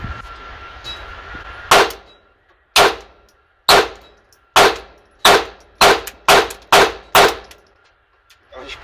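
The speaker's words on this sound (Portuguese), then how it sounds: "agora vou alimentar, carregar a pistola, efetuar meus disparos" A Taurus TX22 pistol fires at a target: about ten sharp, loud shots ring out close by, spaced slowly at first and then coming quicker near the end, with quiet between them.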